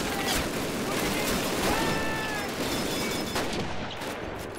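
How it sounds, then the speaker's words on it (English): Rapid bursts of MG42 machine gun fire crackle through a Call of Duty battle scene, layered with other gunfire and explosions in a dense, continuous din. "It's a lot of machine guns."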